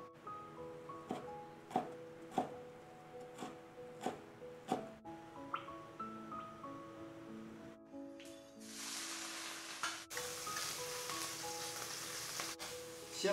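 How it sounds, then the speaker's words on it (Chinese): Salty pickled mustard greens stir-fried in a pan until golden, heard first under tinkling background music and then as a loud, steady hissing sizzle that swells over the last few seconds. "先把这个咸菜呢炒到黄色"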